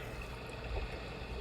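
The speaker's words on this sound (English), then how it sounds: "Ocean water waves." A white noise machine plays its ocean waves setting, a steady, close, hissing wash of water sound with no talk over it.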